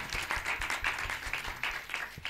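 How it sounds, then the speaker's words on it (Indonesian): A small audience at a cultural gathering claps briefly for Naja, the separate claps close and distinct in a quick, uneven patter. "Tepuk tangan dulu buat Naja."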